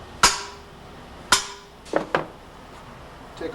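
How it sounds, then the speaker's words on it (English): Two sharp metallic hammer strikes on a Harley-Davidson Twin Cam engine valve spring ring out, followed by a couple of lighter taps, in a quiet workshop with no talking. "Give a little whack with a hammer."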